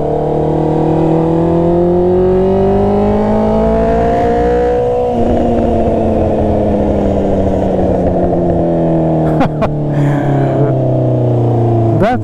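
Honda CB650R motorcycle engine revving high, a loud close whine climbing steadily through the revs before dropping away and winding down, with a few sharp pops near the end and no talk.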